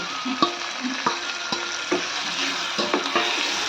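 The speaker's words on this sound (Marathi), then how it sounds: "त्याला छान परतून घेऊया" Ridge gourd sautés in a pan with a continuous bright sizzle and regular stirring scrapes roughly every half second, close and fairly loud.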